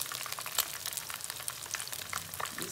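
Fish pieces frying in hot oil, giving a steady close crackle and bubbling sizzle with fine pops throughout and no voices.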